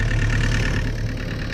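An excavator's diesel engine runs steadily at idle nearby, a loud, even low rumble for a brief moment with no speech.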